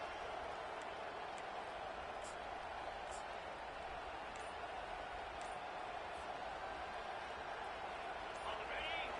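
A steady, distant roar from a stadium crowd in a Madden football video game, with Florida State Seminoles on the field. The crowd noise is a constant wash under continuous commentator talk.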